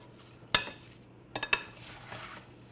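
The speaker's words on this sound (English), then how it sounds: "Just lightly toss together." Mediterranean watermelon salad with fresh herbs tossed in a bowl: one sharp clink of a utensil against the bowl, then a few quick knocks and soft clatters, close and brief over a quiet room.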